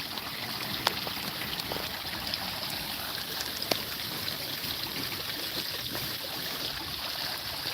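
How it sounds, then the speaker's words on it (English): A video game waterfall rushes in a steady, broad wash that stays even throughout, with a few faint clicks on top and no talking. "Look at this nice waterfall."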